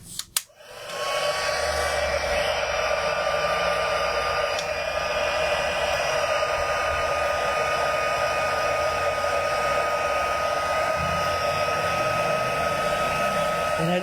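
A handheld heat tool blows a constant, loud whooshing stream of air over die-cut card leaves, starting with a click and holding steady without a break.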